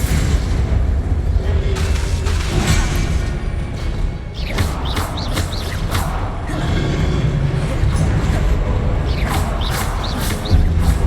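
Spell-casting combat in the Hogwarts Legacy video game fills the clip with dense, loud booms, thuds and blasts over a constant rumbling bed, with no pauses.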